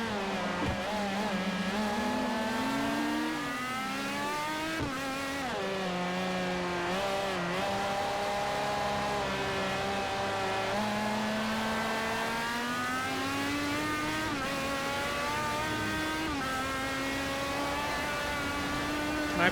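Racing engines of an Aston Martin GT1 in Forza Motorsport 4, a loud continuous whine with rising and falling pitch through gear changes as the car revs and accelerates, alone without talk.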